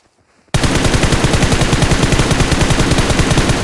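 Sustained rapid automatic gunfire in the mobile battle royale game PUBG Mobile erupts after a brief quiet moment, a loud, continuous burst of shots filling the rest of the stretch with no talk over it.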